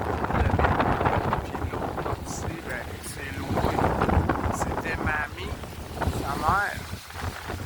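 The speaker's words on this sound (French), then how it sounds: "on a le vent qui m'aide pas aujourd'hui dans ma description de la pension" Wind buffets the microphone with low rumbling gusts while a person talks over it outdoors.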